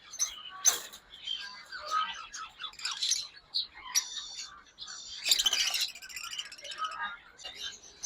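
Conures, including a pineapple conure pair offered for sale, give sharp, scattered chirps and squawks close by in a bird shop. The calls come in irregular bursts, with quiet gaps between them.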